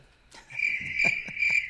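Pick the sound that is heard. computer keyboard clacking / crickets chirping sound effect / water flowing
crickets chirping sound effect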